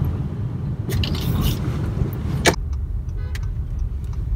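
A car driving on a one-way street in Queens, New York, making a left turn, with a steady low road and engine rumble throughout, a brief bump, and faint clicks and rattles inside the cabin.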